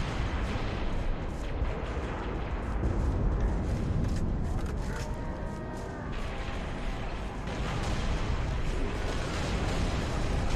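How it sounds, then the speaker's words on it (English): Continuous heavy booms and rumbling blasts from a battle in Halo: Reach, mission Exodus, dense and loud throughout, with faint voices mixed into the din. "I saw all those explosions."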